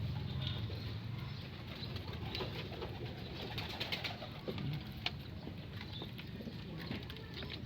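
A pet pigeon coos in courtship, soft low repeated calls close by over a steady outdoor background hum, with occasional faint clicks and knocks.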